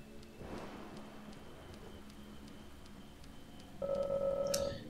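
Rain falling in the video game Deadly Premonition, a steady soft hiss with faint ticking drops, then a sustained electronic tone cutting in near the end.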